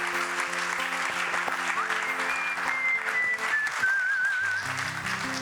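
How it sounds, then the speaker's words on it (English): An audience claps at length after a school production of The Merchant of Venice at a Founder's Day celebration, dense sustained applause with a few whistles rising above it and a held musical note underneath. "Let us give them a huge round of applause."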